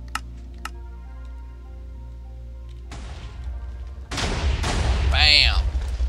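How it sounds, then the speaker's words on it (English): A Minecraft TNT cannon firing sand, with quiet clicks giving way to a sudden loud blast that is followed by a rumbling, sustained roar of explosions up close. No one speaks over it. "see how the TNT just shot the sand all the way down quickly?"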